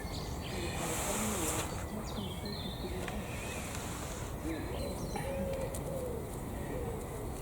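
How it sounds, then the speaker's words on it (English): Pigeons or doves coo softly in a kitchen garden on a morning, with scattered faint bird calls over a constant outdoor hiss and low rumble. "Oh, the birds are happy this morning"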